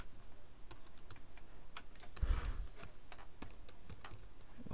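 Rapid, irregular clicking of keys on a computer keyboard while text is entered in a design program, close and crisp, with one slightly heavier cluster of strokes midway.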